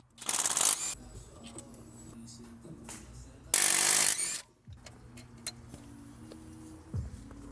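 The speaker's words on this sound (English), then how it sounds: "Now I'm gonna remove 3 12mm bolts holding this housing solenoid in place." Ratchet loosening 12mm bolts on the solenoid housing of an Acura RL, two short bursts of quick, close clicking separated by quieter clinks and handling noise.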